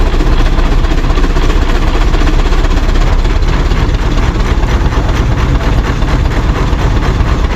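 A coal-fired engine runs under load driving a sawmill, giving a loud, dense, continuous low rumble with a steady mechanical pulse and no voices.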